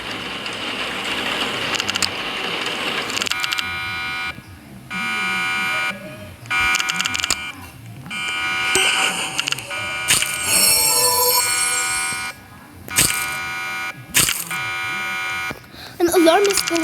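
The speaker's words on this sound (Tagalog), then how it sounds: "An alarm is going off." A video game alarm sounds as a harsh electronic buzzer that blares in repeated bursts of a few seconds each, broken by short gaps, while people talk over it.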